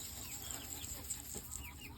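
Chickens at feeding time cluck softly at a distance over a steady outdoor hum of farmyard background noise.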